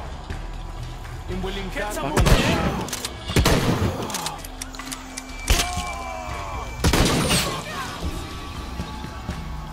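Gunshots ring out in Tomb Raider 2, several sharp broadband blasts spaced a second or two apart, loud against background game music and effects.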